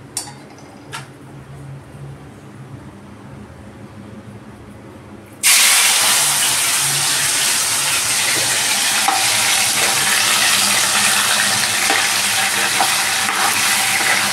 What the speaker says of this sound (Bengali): তেলটা আমার অলরেডি গরম হয়ে গেছে। আমি হালকা করে ফ্রাই করব